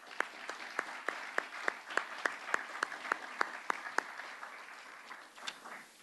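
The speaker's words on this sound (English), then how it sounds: "Let's give them a round of applause." An audience at a project event claps for the contractors and consultants, with distinct sharp claps in a fairly regular rhythm that thin out and fade toward the end.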